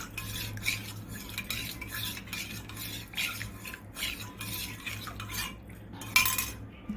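Homemade aloe vera gel serum is stirred in a small container, faint close clinks and scrapes of a spoon in an uneven rhythm against a low steady hum, with no voices.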